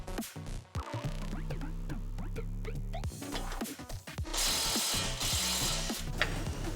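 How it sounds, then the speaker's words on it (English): An impact gun hammers at a track rod end on a Mini, giving a loud, continuous mechanical rattle that runs in sustained bursts with brief pauses, close up and without speech. "I'll give this track rod end here a go first of all with my impact gun."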